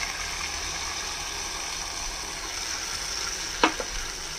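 Spice masala with ginger and garlic fries in a pan, a low, even sizzle held steady throughout, with one short sharp clatter near the end.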